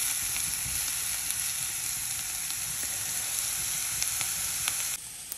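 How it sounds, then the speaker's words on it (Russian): A carrot mixture fries in a pan with a loud, steady sizzle and crackle, close and continuous, with tiny pops scattered throughout and a slight drop at the very end. "Все это поджариваю на сковородочке."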